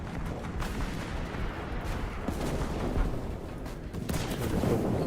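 Submachine gun fire from infantry combat in War Thunder comes as rapid bursts of cracking shots over a dense rumbling battle backdrop, with louder volleys near the end.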